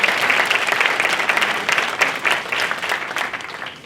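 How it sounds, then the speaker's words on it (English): An audience applauds continuously at a black wealth community event, a dense and fairly loud round of clapping that stays even for a few seconds with no one speaking over it. "Let's give him a round of applause."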